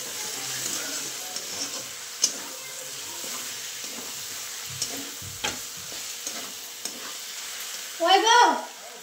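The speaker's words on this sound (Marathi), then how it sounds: "काळा तिखट टाकल्यावर चांगलं हलवून घेते" Black chili powder being stirred into a sizzling mixture in a frying pan, a steady soft fry with scattered scrapes and taps of the spoon, then a louder rattling stir near the end.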